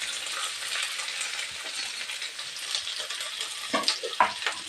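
Chopped capsicum and carrot sizzle steadily in a pan, with a soft broadband hiss throughout and a few louder scraping clinks of stirring near the end.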